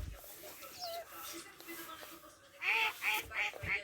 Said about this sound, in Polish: Co tu robią aż dwie kaczki?